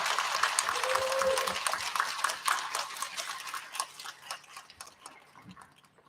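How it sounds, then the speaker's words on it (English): An audience applauds kindergartners at a school student recognition ceremony, clapping densely at first and then thinning out into scattered claps as it fades. "Let's give a big round of applause for all of our kindergartners."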